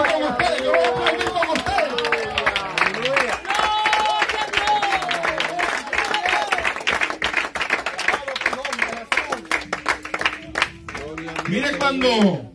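A church congregation claps along with a pastor during worship, rhythmic hand claps running throughout beneath loud preaching and singing voices.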